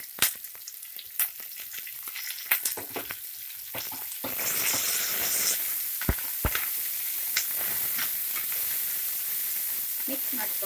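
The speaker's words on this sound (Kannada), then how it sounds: "ಮಿಕ್ಸ್ ಮಾಡಿಕೊಂಡು ಒಂದು 2 ನಿಮಿಷ ಮೀಡಿಯಂ ಫ್ಲೇಮಲ್ಲೇ ಫ್ರೈ ಮಾಡ್ಕೊಂಡು ಈರುಳ್ಳಿನ" Onions with green and dried chillies and curry leaves fry in a pan over a medium flame: a steady close sizzle, broken early by sharp scraping stir clicks, that thickens and grows louder halfway through.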